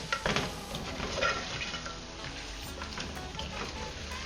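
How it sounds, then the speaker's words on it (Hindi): Chicken sizzles and fries in a pan with achari masala while being stirred, a steady close hiss with scraping stir strokes throughout and no talking. "अब इसको अच्छे से भुनेंगे चिकन के साथ"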